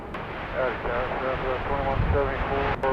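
A Boeing 737-700 at Dallas Love Field Airport at night sends a steady distant engine roar, heard alone under a faint tonal hum.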